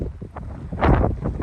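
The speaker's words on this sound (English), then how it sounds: "Apologize for that wind noise." Gusts of wind buffet the microphone on a high mountain trail, producing low rumbling thumps and bursts that swell louder toward the end.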